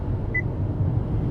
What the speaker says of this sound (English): After the beep, say the number corresponding to the desired song.